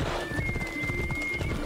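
In Assassin's Creed Odyssey video game, a horse gives a drawn-out whinny over soft clip-clopping hooves, close by and steady, with no talk.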